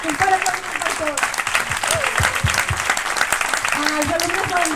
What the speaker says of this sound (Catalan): Un fort aplaudiment per tots.